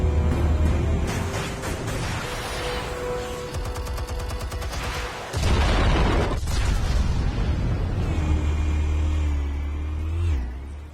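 Explosives detonating in Batman: The Telltale Series, loud booming blasts and crackling debris amid a roaring vehicle engine and sweeping music, with a big impact midway and no talking.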